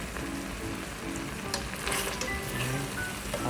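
Fish coated in barbecue sauce frying in a pan, a steady close crackling sizzle with popping spatters throughout, no talk.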